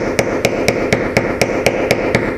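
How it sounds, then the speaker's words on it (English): Steady, evenly spaced metal taps as a hammer strikes a setting punch resting on a metal shadow box pendant during stone setting, about ten light close strikes with no talking. "I'm going to place that directly on top of this, and then I'm going to just gently tap with my hammer"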